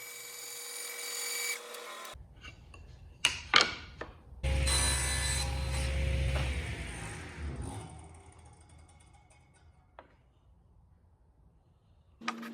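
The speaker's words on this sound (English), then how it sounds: "then cut it at a 30-degree angle to make the 2 pieces" A power saw cutting 9mm Baltic birch plywood at a 30-degree angle, a whirring whine that spins up, bites into the sheet for a few seconds and winds down, with clunks from the workpiece, close and fairly quiet.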